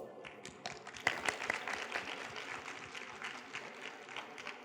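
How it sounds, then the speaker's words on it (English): Audience applause at an award ceremony on the main stage of a technology expo forum, a steady crowd clapping that swells after the first second and carries on evenly throughout. "Let's give them a round of applause."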